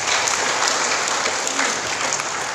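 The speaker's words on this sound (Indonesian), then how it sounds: "Tepuk tangan boleh Bapak Ibu" Brief burst of steady, dense audience applause at a seminar, fairly close and continuous.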